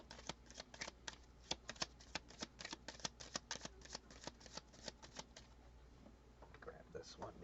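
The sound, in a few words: shuffling tarot cards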